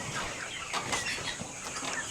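Chickens kept on a Philippine backyard farm cluck and stir close by, with soft rustling and a brief flurry around the middle, all fairly loud and free of talk.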